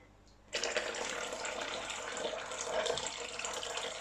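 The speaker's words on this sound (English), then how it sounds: "And I'm just going to add the rest of my water in." Lukewarm water pours steadily into a bowl of pretzel dough, a soft continuous splashing that begins abruptly and runs on unbroken at close range.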